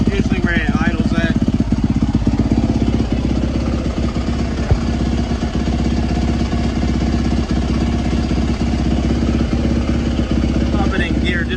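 A dirt bike engine running on E85 fuel idles steadily and loudly up close, its low rhythmic putter continuous throughout with a few faint bursts of background noise.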